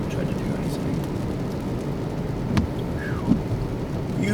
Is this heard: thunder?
yes